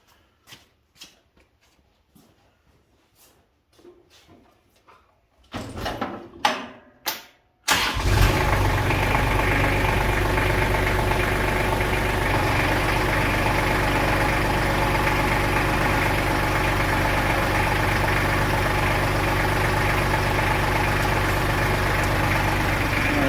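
A Kubota L2800 tractor engine cranks and fires after a fuel filter change. A few quiet clicks and knocks come first, then a brief cranking burst, then the diesel catches and settles into a loud, steady idle.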